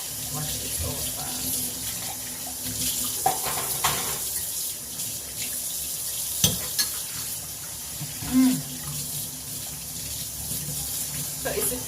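Running tap water at a sink as something is rinsed under it, giving a steady splashing hiss with a few clinks and knocks, close by and moderately loud.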